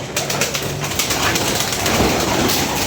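Several pigeons coo continuously in a loft, a steady murmur of overlapping calls with some scuffling and background noise, fairly loud and close throughout.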